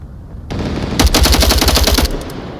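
A rapid burst of automatic gunfire rattles close and loud for about a second in an Onward VR competitive semifinal match, preceded by a brief burst of noise.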